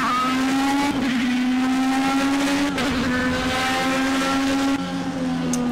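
A Formula B race car's engine in Project CARS on Xbox One holds a loud, sustained high-pitched drone close up, wavering slightly through gear changes and briefly dipping near the end.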